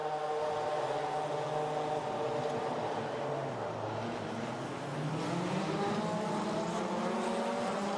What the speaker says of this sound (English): So cars head off on the formation lap for the very final time in 2017